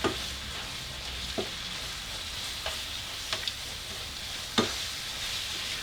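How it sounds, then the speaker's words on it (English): Mexican pizza meat mixture stirred in a hot pan, a steady sizzle under a few sharp utensil scrapes and clicks spaced through the clip, with no talking. "So then we just give it a quick little mix."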